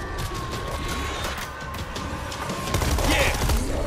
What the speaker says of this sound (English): We got an auto turret.